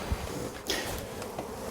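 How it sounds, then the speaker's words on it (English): Honeybees hum inside a wall behind house siding, where about 50 years of comb has built up. The buzz is low, faint and steady, with a fly-by whir partway through and no voices. "I can hear them humming behind the siding."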